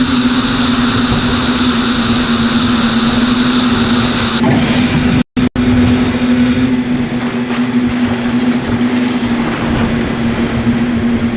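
Snowmobile sled engine in the racing game Whiteout, a steady buzzing drone with a constant whine, close and loud, with the tone shifting partway through and a brief dropout of a split second.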